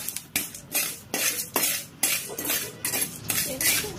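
A utensil stirs black urad dal as it toasts in a pan, giving a regular run of scraping, rattling strokes, about two every second, close and fairly loud.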